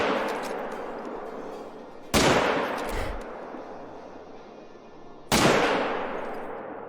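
Hunting rifle shots in the Call of the Wild hunting game: two loud, sharp reports about three seconds apart, each trailing off in a long rolling echo over a steady outdoor background.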